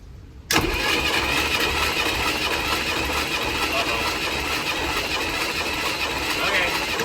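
Engine of a 1968 Ultra Van cranking during a compression test on cylinder 5, kicking in abruptly after a brief quiet moment, then a steady, loud mechanical churning that holds for several seconds.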